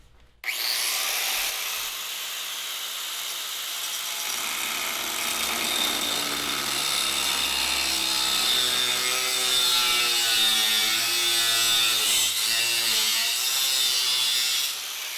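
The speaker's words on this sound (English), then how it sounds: "Anytime I'm cutting with a grinder." An angle grinder cuts miters into wood for a coffee table, a steady, loud, high-pitched whine and rasp that starts abruptly and holds for about fourteen seconds, with the pitch wavering slightly under load and no talking.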